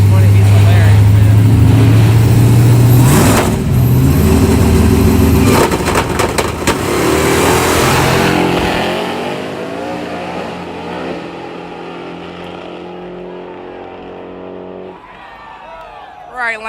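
Nitrous-fed small-tire drag racing car launching down the strip at Yellow Belly, a loud roaring engine that climbs then fades into the distance, with crowd chatter and people talking over it near the track.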